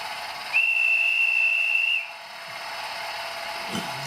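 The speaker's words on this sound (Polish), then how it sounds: "Gwizdek za to donośny." A single shrill, steady locomotive whistle blast from an ET22 electric locomotive in a train video game sounds for about a second and a half over a constant hissing rumble, then cuts off.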